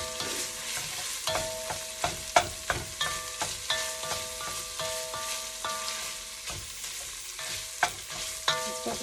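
Italian sausage browns in a pot for soup, sizzling steadily while a utensil scrapes and stirs in a loose, repeated rhythm; a faint steady tone hums in the background.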